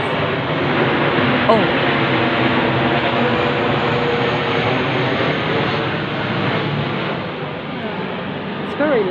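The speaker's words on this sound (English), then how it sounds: "I'm pretty sure there's a plane." A low-flying airplane passing overhead near a road, a loud broad roar holding steady across the stretch, with a brief exclamation from someone nearby.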